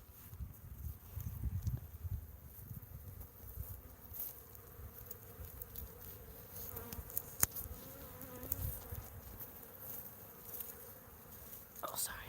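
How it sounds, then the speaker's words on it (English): Honeybees hum faintly at close range around a hive, a soft continuous buzz with scattered rustling and handling noises, and a quiet voice now and then. "move the phone much closer to the hive so that you can enjoy the musical stylings of the honeybees"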